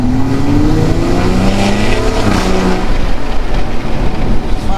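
BMW M340i fitted with an Active Autowerke exhaust accelerating in comfort mode, a loud, close engine drone rising in pitch over a few seconds, with steady road and wind noise underneath.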